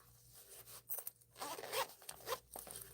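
A zipper being pulled along a zip-around wallet with an accordion pocket, a quiet close-up rasping run in several short bursts and pauses, no talking.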